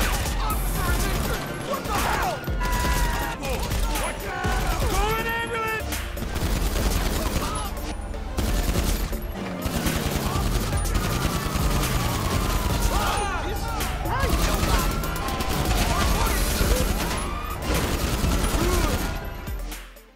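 Rapid gunfire from an AP pistol in GTA Online, bursts of quick shots running steadily throughout over dense game sound and music, with a faint voice underneath.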